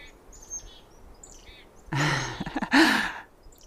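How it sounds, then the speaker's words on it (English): Faint, high chickadee chirps scattered in the distance from a forest chorus, followed by a loud, close breath or sigh partway through. "I'm in the middle of this kind of chorus of chickadees. I can hear them chirp"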